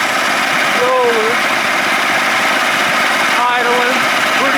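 A 1987 70 hp Johnson outboard motor drones continuously at idle with a constant, loud rumbling hum; faint voices are buried beneath it.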